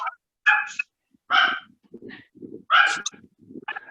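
Several dogs fighting in a neighborhood, giving a run of harsh, close barks and snarling yelps in uneven bursts with short gaps between them.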